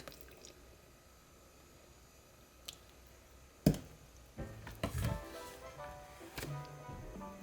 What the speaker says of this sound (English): We're gonna add buttermilk.